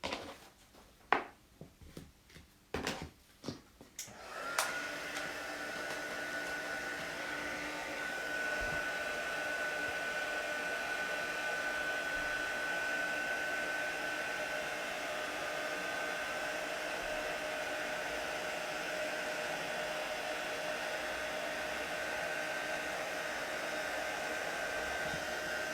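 After a few handling clicks and taps, a heat tool switches on and blows steadily with a whirring hum for over twenty seconds, melting clear embossing powder on a card, close and even.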